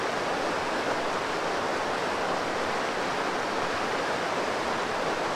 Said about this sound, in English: these tiny waterfalls flowing down over the rocks too